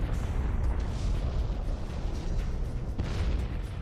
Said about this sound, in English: While the explosion of a Type II supernova showers the universe with heavy elements